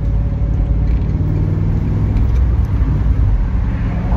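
A deep Triumph Stag V8 engine rumbles steadily from inside the moving car, a continuous low drone with road noise and no voices.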